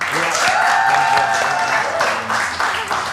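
A studio audience at an Indonesian entertainment show breaks into brief, dense applause, a continuous wash of clapping with voices mixed in.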